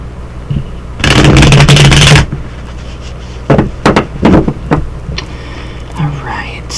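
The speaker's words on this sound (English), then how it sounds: "Good shuffles. I love good shuffles." Cards are shuffled in a loud riffling burst, followed by softer snaps and shuffles while someone whispers nearby.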